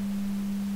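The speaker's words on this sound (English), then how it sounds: "here we'll have pink noise on the left, sine wave on the right" Pink noise and a sine wave synthesized in SuperCollider: a steady pure low tone held under a soft, broad hiss, constant and unbroken, no voices.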